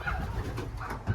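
Midas pigeons coo softly in a loft, a low rolling burble that repeats several times at close range, with no talking over it.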